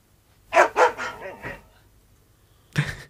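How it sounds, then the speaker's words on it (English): A dog barks in a few loud, close bursts that come in quick succession, followed by a pause and then another bark near the end. "It's a dog"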